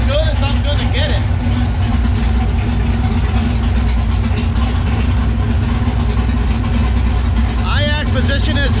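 A V8-swapped Camaro idling steadily at 760 RPM, a loud continuous low rumble from start to finish, with a brief whine rising near the end and a person talking over it.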